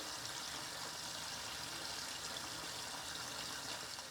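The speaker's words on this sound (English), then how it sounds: "Fill the sink completely with water" Tap water runs steadily into a bathroom sink, a constant soft hiss and gush with no pauses.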